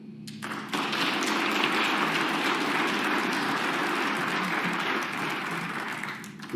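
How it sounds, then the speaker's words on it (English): Applause bursts from the crowd at a professional snooker match, Barry Hawkins vs Zhao Xintong at the Players Championship, a dense, steady wash of clapping that holds for about six seconds at moderate distance. "The burst of applause on Barry Hawkins' backswing there"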